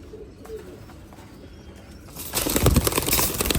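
Gorra pigeons on a farm coo softly at close range, with a burst of loud wing flapping or rustling taking over for the last second or so.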